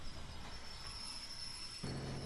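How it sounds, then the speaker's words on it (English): A train ride in the video game Hello Neighbor gives a steady rolling rumble with faint wheel squeal, continuous and unbroken, shifting slightly in tone near the end. "I'm on the train because on its next stop, it's gonna take me to the place where I need to go."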